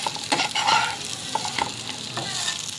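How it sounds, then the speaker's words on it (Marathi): Fresh bangda mackerel fry in a pan with a soft continuous sizzle, broken by a few scraping and clinking touches of a spatula, moderately close. "मच्छी ताजी असल्यामुळे चांगली मस्तपैकी फ्राय झालेली आहे"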